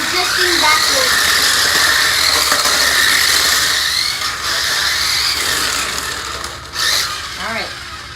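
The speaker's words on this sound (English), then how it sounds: "Okay, do some drifting." A 1:16 scale 4WD remote control drift car whirs and squeals as it drifts, its motor whine rising and falling over several seconds while people talk nearby.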